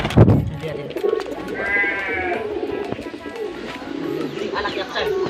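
A silver-grey Yakusen giring dove coos close by in repeated throaty rolling phrases with a bleating quaver, a sharp knock at the start and a voice murmuring in between.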